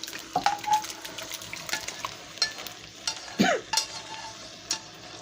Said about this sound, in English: We're gonna mix the gravy, sour cream, meat in with the pasta.